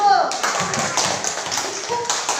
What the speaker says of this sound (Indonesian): mari kita memberi tepuk tangan untuk kelompok 1